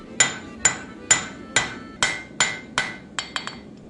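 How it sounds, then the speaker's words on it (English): Hammer blows on white-yellow hot steel while forge welding a viking axe, about eight loud evenly spaced ringing strikes close by, ending in a few quicker lighter taps, with no talk. "I then heat everything up to a white-yellow color and start forge welding the axe."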